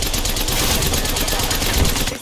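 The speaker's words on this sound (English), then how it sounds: "Frag out. Opening fire." Automatic gunfire in the battle royale shooter Apex Legends crackles in a fast, dense, unbroken stream at close range for a couple of seconds.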